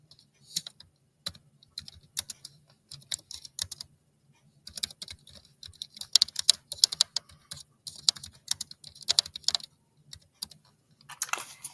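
Rapid keyboard typing, steady bursts of clicking keystrokes with short pauses, close and clear with no voices.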